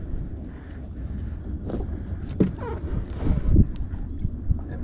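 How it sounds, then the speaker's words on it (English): Wind gusts around a sailboat during a winter front, a steady rushing roar with some low buffeting and a few louder swells. The wind is close and moderately loud, and there is no clear speech. "That wind's blowing. Yeah, the wind just picked up."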